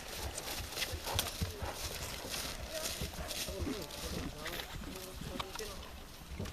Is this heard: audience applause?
no